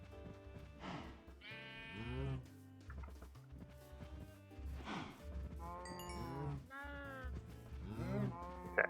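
Minecraft cows, including baby cows, in an animal pen, mooing repeatedly in overlapping drawn-out calls, near and fairly loud, with no speech.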